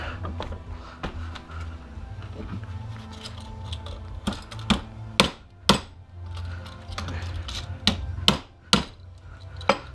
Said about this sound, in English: Maybe we gotta hammer it. Maybe that'll get it apart.